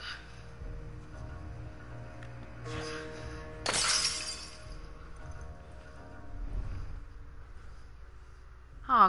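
Glass shattering in The Last of Us Remastered, a single sharp, bright crash midway through over a low game rumble and faint ambient tones, with no talking.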